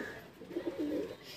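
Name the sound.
pigeon cooing while being held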